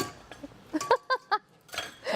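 A metal whisk clinks against a bowl in a kitchen, with several light, bright taps and rattles spaced irregularly and close by, and faint voices around them.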